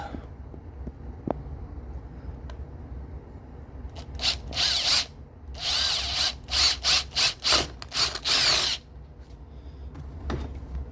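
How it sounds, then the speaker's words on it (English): A power drill whirs through fiberglass in several short bursts, then a longer run of quick stop-start pulses, close by with quiet room noise between. "Drilled right through it."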